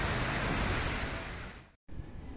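Steady rushing water from a waterfall in a hotel garden, a constant broadband roar with no talk, cut by a brief dropout near the end.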